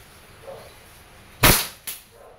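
A WE Hi-Capa T-Rex airsoft pistol fires two sharp, loud snaps about half a second apart, close to the listener. A fainter click comes before the shots against a quiet background.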